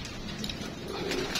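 Pigeons coo softly inside a pigeon loft, a low murmuring drone of several birds blending into a steady background over a short stretch, with no voices.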